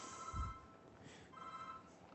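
A mobile phone goes off in a lecture hall, a faint, distant electronic ringtone playing two short bursts of melody about a second apart beneath quiet room noise.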